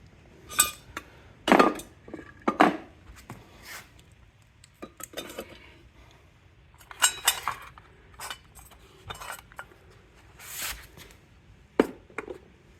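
Scrap metal shred from sump pumps is dropped onto a scale in handfuls. Light metallic clinks and clatters come in irregular bursts with quiet gaps between them, close by and fairly soft.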